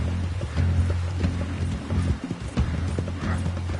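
Horse hooves trotting steadily in Red Dead Redemption 2, a rhythmic clip-clop close by and fairly loud over a low rumbling backdrop.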